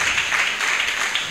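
A church congregation claps together in a brief burst during an Easter worship service. The dense, even applause sits at moderate level with no clear speech over it.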